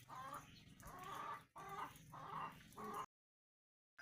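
Chicks and chickens clucking on a Brazilian farm at feeding time. Close, repeated clucking calls come in short bursts with brief gaps, then cut off into silence near the end.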